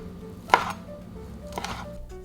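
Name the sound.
knife slicing chikuwa fish cake into thin rounds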